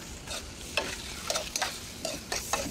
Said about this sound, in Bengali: পেঁয়াজ মরিচ ভাজা হচ্ছে এখানে।